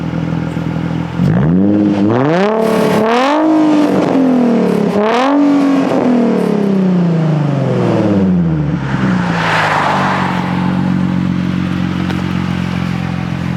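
A Nissan 350Z with a newly installed Tomei exhaust revs hard several times, rising and falling in pitch with a raspy exhaust, then settles into a loud, rumbling idle nearby.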